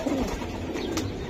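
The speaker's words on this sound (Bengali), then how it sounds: "সুন্দর একটা জোড়া কবুতর" A pair of Giribaz pigeons coo with a short, deep, burbling call up close, followed by softer murmuring over about a second.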